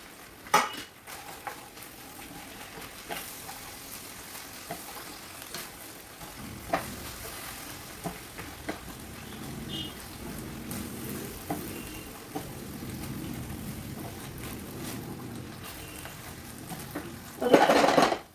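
Vegetables for a crispy veg dish being stirred and fried in a pan over lowered heat, giving a soft steady sizzle with scattered spoon scrapes and clinks against the pan, close and fairly quiet, with no talking.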